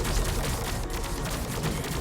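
Disruptor weapons firing at fighters in the space strategy game Star Drive 2, a dense, continuous crackle of rapid energy shots and impacts.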